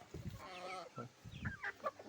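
Native backyard chickens on a rooftop terrace, with roosters among them, cluck in a busy series of short, close calls that overlap one another and stand mostly alone.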